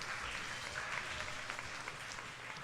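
Audience members at a school spelling bee applaud the contestants with an even, continuous patter of clapping at moderate volume for a few seconds, with no speech over it.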